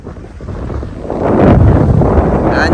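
Strong wind gusting across an open farm under clouds, a steady close roar on the microphone that swells louder and rougher in the second half, with no voices.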